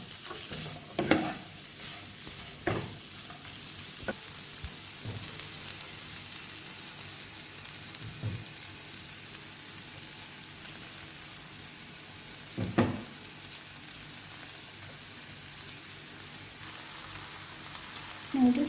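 Vegetables and noodles stir-fry in a pan with a quiet, steady sizzle, broken by a few scattered scraping and tossing clatters of the utensil.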